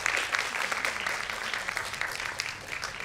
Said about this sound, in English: A huge round of applause again for